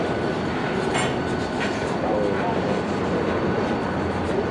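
Union Pacific freight train moving through a rail yard, a steady broadband rumble of rolling cars with faint wheel squeal and clatter, the locomotives heard from a long way off; no one speaks.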